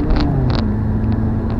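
A BMW 318ti pulls through second gear with a steady low engine drone and road rumble heard from inside the cabin, plus a few faint light clicks and no voices.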